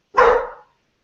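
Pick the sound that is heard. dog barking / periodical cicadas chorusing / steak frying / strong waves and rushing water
dog barking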